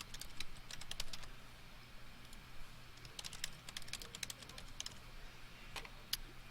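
Fingers tapping out a caption on a computer keyboard in a quiet room, a quick, uneven run of light clicks that bunch into short bursts and then briefly pause.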